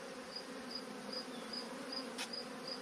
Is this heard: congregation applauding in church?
no